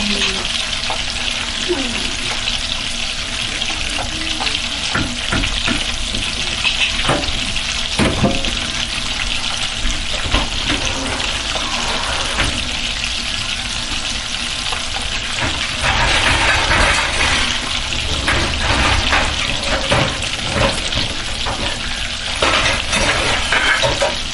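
Jollof rice sauce sizzles and fries steadily in a pot, a dense continuous crackle with occasional stirring clatter and a few sharper knocks, close and fairly loud throughout with no talking.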